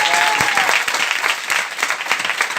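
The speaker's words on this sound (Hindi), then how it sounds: "आदरणीय सुजीत कुमार सिंह, एक बार जोरदार ताली बजाइए" Loud, dense applause from a large audience at a hall meeting, continuous close clapping with sharp individual claps standing out throughout.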